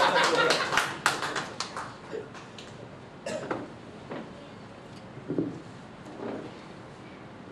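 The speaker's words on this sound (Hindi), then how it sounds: "एक बार जोरदार तालियां से।" Audience at an all-India Hindi poetry gathering claps in a brief loud burst of sharp individual claps that quickly thins out, followed by scattered faint sounds and a voice in a quiet hall.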